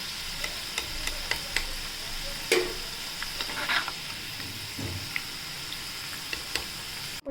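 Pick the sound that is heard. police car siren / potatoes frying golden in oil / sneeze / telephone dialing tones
potatoes frying golden in oil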